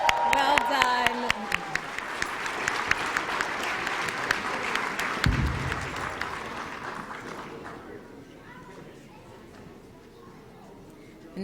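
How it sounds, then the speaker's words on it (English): Audience at a Martin Luther King community event applauding the Queen City Youth Choir, a loud, full round of clapping with a voice speaking over it early on, gradually thinning and fading out toward the end. "Let's just give them one more round of applause."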